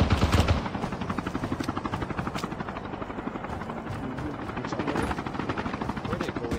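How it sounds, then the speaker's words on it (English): A helicopter in the mobile shooter Call of Duty Mobile, its steady rapid rotor chop loud and close throughout, with a heavy thump at the start and busy gunfire-like texture around it. "Chopper coming in."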